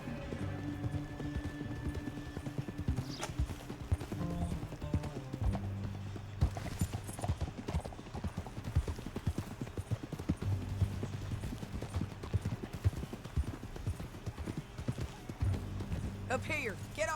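Horse hooves clip-clop steadily on the ground in the Red Dead Redemption 2 video game. The hoofbeats continue beneath people talking throughout, with an occasional neigh.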